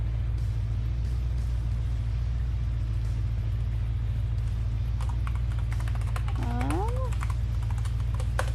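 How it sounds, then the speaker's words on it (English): Typing on a computer keyboard, faint scattered clicks over a constant low engine rumble from a racing sim, with occasional brief voice-like sounds. "I was typing with like 3 fingers."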